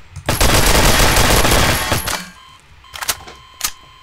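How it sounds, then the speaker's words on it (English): Several players in GMOD DarkRP gunning down the mayor at once: a loud, dense burst of automatic gunfire lasting about two seconds, then a few isolated shots and clicks. "let's all just gun them down at the same time"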